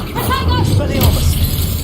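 The Expelliarmus disarming spell is cast in the game Hogwarts Legacy, a bright magical whoosh and shimmering burst of sound effects layered over a player's voice calling out.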